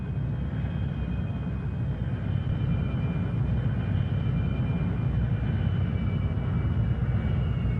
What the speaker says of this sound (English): an Me-262 student pilot begins his taxi